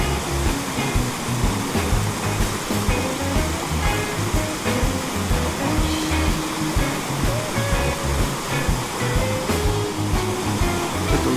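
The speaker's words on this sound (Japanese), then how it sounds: "ここの上に滝があるんで、 水量多いな。" Loud, steady rush of a fast-flowing mountain stream in spate in Aizu, Japan, with a waterfall just upstream; dense broadband water noise fills the whole stretch without a break, no voices.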